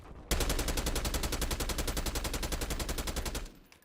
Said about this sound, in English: I don't know if I like the AK with the recoil thing removed or with it on.